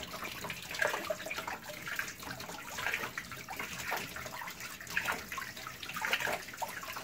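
A tap runs in a steady, even stream of water while movie film is rinsed after its remjet backing is removed with a chamois, with no talking.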